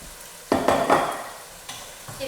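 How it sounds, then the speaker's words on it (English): Chickpeas tossed into a frying pan with potatoes and stirred, a sudden rattling clatter followed by close scraping and a soft sizzle, another brief stir near the end. "Now, I'm going to add the chickpeas."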